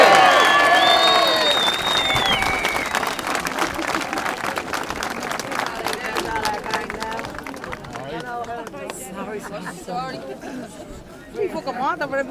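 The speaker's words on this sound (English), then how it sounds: "Fair play, cheer, give yourselves a big cheer." A crowd at a Right2Water protest rally in Dublin City cheers and applauds loudly, with whistles and voices rising over dense clapping that gradually fades toward scattered shouts and chatter.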